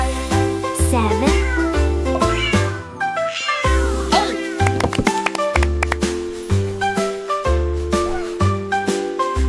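A cat meows repeatedly in a children's counting song, the cries woven over a bright, rhythmic musical backing with plucked and tinkling notes.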